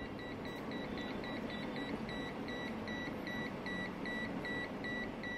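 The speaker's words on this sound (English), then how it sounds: "when I bring the multimeter close to it, you can hear a beep." Steady, regular electronic beeping from a multimeter held near a small 9V Tesla coil, repeating about twice a second over a constant low hum, loud and continuous throughout.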